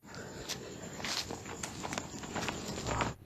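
Irregular clopping hoofbeats from a nearby horse, steady and fairly loud against a hissy outdoor background, with no voices.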